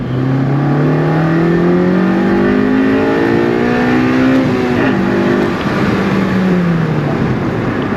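8th generation Honda Civic Si fitted with a K&N drop-in air filter, floored in second gear, its engine note climbing loudly and steadily over several seconds before easing off, heard alone from inside the car.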